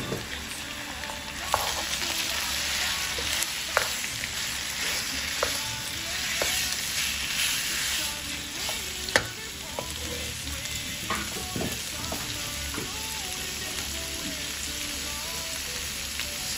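Beef frying in a pan for curry with tomato, a steady hissing sizzle with intermittent stirring scrapes and a few sharp clinks of a utensil, no one speaking.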